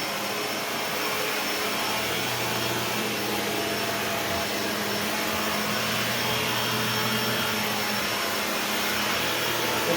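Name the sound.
Shark Lift-Away ZU560 vacuum cleaner running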